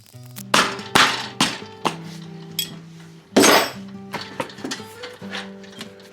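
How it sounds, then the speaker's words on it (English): A metal wrench dropped during work on an old 1983 Stumpjumper bicycle, a series of close, bright metallic clinks and clangs bouncing and rattling over several seconds with short ringing tones between hits. "I dropped my wrench"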